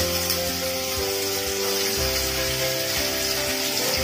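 Ginger stirred into tomatoes frying in a pan for a cabbage dish, a soft continuous sizzle at moderate level over a steady low hum, with no one speaking.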